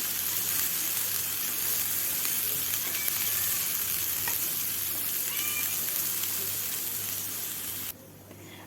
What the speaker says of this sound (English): I am dry roasting them